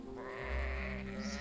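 A single drawn-out sheep bleat from a Jack the Ripper hidden-object video game sounds artificial and clearly tonal, moderately quiet, lasting about a second and a half.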